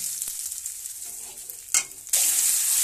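Chopped garlic frying in hot oil with bay leaf, dried red chilli, cardamom, cinnamon and cloves in a pan, a close sizzle broken by stirring scrapes and a sudden louder burst of hiss near the end.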